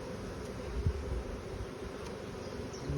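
Honeybees around an open hive make a continuous low buzzing hum, steady and close, with faint rustling movement and no voices.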